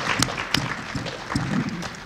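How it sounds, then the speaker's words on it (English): An audience at the Bloomfield candidate forum gives the candidates a round of applause: brief, scattered claps with a few sharp louder hits over a soft background murmur. "Go ahead, give them a round of applause."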